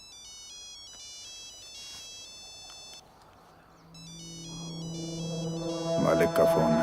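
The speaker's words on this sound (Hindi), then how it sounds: "मालिक का फोन है" A mobile phone ringtone plays in a dubbed Bollywood action film scene: a clear repeating electronic melody sounds in two bursts separated by a short pause. Background music swells and grows louder beneath the second burst.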